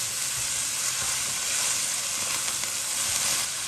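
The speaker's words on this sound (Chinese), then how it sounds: "下入葱花，再炒出香味儿" Chopped scallions stir-fry in a hot pan after minced pork, giving a steady, dense sizzle with faint scraping stirs throughout, close and continuous with no talking.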